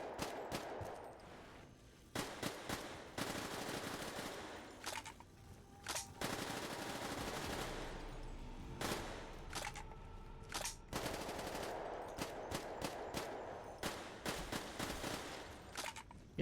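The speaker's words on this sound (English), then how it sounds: "But I test out an SMG." Rapid SMG gunfire in Black Ops 3 Zombies on the TranZit map, with loud, dense bursts of automatic shots broken by short pauses, continuing throughout without talk.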